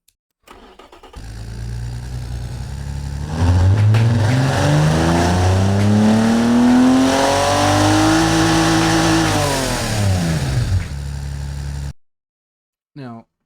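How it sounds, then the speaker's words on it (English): A 375hp sports car engine in BeamNG.drive starts from a low idle, then revs up hard and holds a high, climbing howl for several seconds before dropping back and cutting off abruptly, loud and close. "I wanted you guys to be able to hear the engine"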